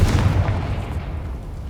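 A Confringo fire spell bursts in Hogwarts Legacy, a loud booming blast with heavy low rumble that decays steadily over under two seconds, with no talk.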